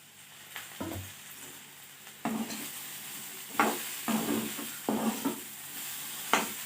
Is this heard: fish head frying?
yes